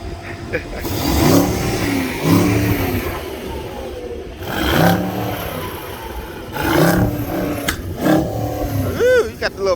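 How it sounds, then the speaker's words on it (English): Car engine at a pop-up car meet revved repeatedly in bursts, with crackling exhaust pops at the end and people talking nearby. "Give it a rev."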